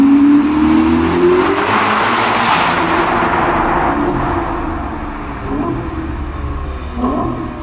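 Ferrari SF90 Spider with a Novitec exhaust, a loud, close hybrid supercar roaring past while accelerating, its engine note rising then fading as tire and road noise linger, with another rev swelling near the end.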